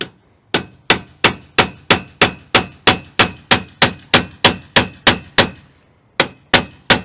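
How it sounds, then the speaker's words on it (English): Metal U-bolts hammered onto an aluminium awning bracket in a very tight fit: about seventeen sharp, ringing clangs at a steady beat, each decaying fast, then a short pause before two more strikes, loud and close with no talk. "so ignore the hammering"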